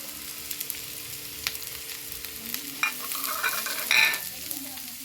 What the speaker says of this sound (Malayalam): നമുക്ക് ഇതിലേക്ക് ചെറിയ ഉള്ളി ഇട്ട് കൊടുക്കുന്നുണ്ട് ഇതൊന്ന് നല്ലോണം വാട്ടിയെടുക്കണം